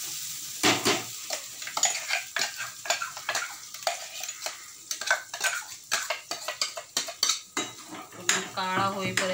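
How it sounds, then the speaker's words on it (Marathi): Masala is stir-fried in hot oil in a pan for a Marathwada-style chicken dish: a sizzling bed under brisk, clattering metal spoon scrapes and taps against the pan, close and fairly loud, with no voices. "मसाला परतून देते आता मी करून"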